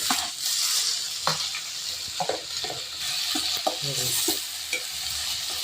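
Tomatoes being stirred into browned onions frying in a pan, with steady sizzling and several scraping stirs of the spoon against the pot, close and moderately loud, no talking.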